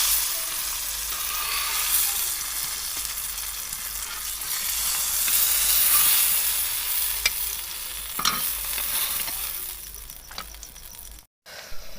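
Eggplant slices fry on a tawa griddle with a loud, steady hiss of sizzling and occasional stirring clicks, close up and with no talking, ending in a brief dropout.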